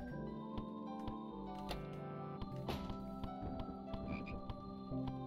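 Frogs croaking in a video game: repeated croaks over layered game music and sound effects, moderately loud and recurring throughout a few seconds, with no talking.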